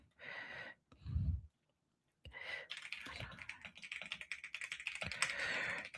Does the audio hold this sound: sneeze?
no